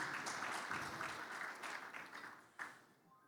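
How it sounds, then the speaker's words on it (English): Audience applause at a family planning conference plenary on private sector engagement, a dense round of clapping that tapers off toward the end, heard at moderate distance. "Can you give him a good round of applause, please?"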